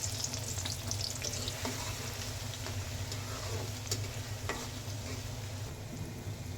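Chopped onion frying in a pan for chicken biryani, a continuous close sizzle with a low steady hum beneath and faint stirring ticks, no talk.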